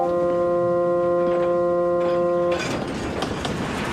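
Steady rumble of a rolling train of empty freight cars with sustained tonal whine from the wheels, shifting to a broader, noisier rush partway through.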